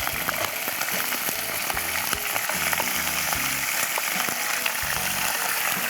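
Marinated mutton sizzles and crackles in a hot pan for a restaurant-style korma, a close, steady frying hiss with occasional spoon clinks and stirring thumps, and no talking.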